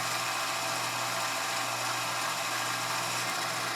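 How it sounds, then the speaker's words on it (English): A G0765 7x14 mini lathe turns an aluminum workpiece at about 825 RPM, taking a 15-thousandths cut under power feed; a steady, loud broadband whir with low motor hum runs unbroken throughout. "We're taking 15 thousandths off just to start out. And I've just set the lathe at about 825 RPMs."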